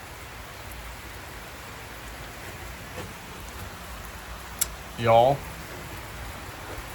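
Rain falls steadily in a park in Indonesia, a constant broadband hiss, while a person speaks briefly over it.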